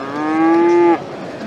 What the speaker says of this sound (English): So we've got a cow with a moving tail.